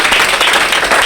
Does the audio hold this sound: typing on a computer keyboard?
no